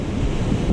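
Ocean surf on a crowded Peruvian beach with rip currents, a continuous broad wash of breaking waves mixed with wind buffeting the microphone, steady and fairly loud with no voices.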